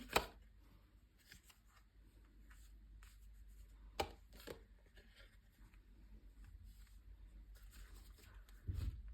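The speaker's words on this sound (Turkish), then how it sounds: "İki kart geldi elime alıyorum." Tarot cards are handled and drawn in a quiet room. Faint papery shuffles and slides come close by, with a few sharper snaps where cards are picked up or laid down.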